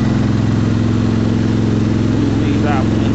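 A tractor engine runs steadily on a mulching job, a loud, close, throbbing rumble with a constant rhythmic pulse, while someone talks over it.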